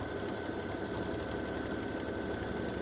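An embroidery machine stitches a hummingbird and hibiscus edge-to-edge quilting design, a steady low mechanical hum with a fast rhythmic stitching pulse, continuous and fairly quiet, with no voices.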